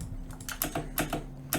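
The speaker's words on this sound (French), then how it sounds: "Dis-moi si ça vous dérange le son de mon clavier." Quick bursts of typing on a computer keyboard, clustered clicks at close range in a quiet room.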